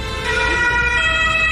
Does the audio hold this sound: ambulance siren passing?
yes